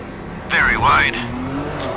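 A race car in a sim-racing broadcast of the Bahrain 8 Hours endurance race spins out, its tires letting out a loud, wavering squeal for about half a second, with engine noise and faint commentary underneath.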